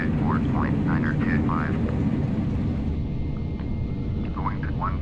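Airliner jet engines in Flight Simulator X spool up for takeoff from runway 22 right at Pisa, a steady broad roar filling the scene while someone talks over it intermittently.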